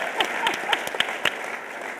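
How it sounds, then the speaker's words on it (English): A small studio audience at a televised panel discussion on the 2010 Census claps in scattered, distinct bursts, several sharp hand-claps standing out over a soft background murmur. "Let's give him a big round of applause for answering that question in 60 seconds."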